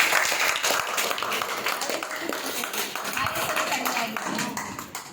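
Parents clap loudly after knee-pain therapy: a quick, irregular run of sharp claps close by, lasting the whole stretch, with faint voices underneath.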